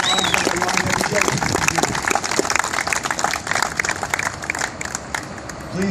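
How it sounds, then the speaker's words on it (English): An outdoor crowd at a 911 memorial groundbreaking claps for police and fire first responders, a busy, sustained patter of hands with some voices mixed in beneath. "Please give them a round of applause"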